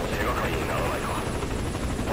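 A helicopter in the video game Metal Gear Solid V: Ground Zeroes gives a constant rotor and engine roar at moderate loudness, with people talking over it.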